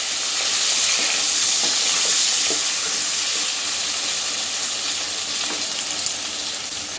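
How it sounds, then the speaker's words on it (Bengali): Fish fat frying in hot oil in a pan, producing a loud, close, continuous hiss and sizzle with faint pops and stirring scrapes and no talking. "প্রথমে মাছের তেলগুলো এই যে ভালো করে ভাজা ভাজা করব"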